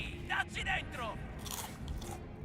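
A video game character munches food in a few quick crunchy bites, soft and close over a quiet ambient background.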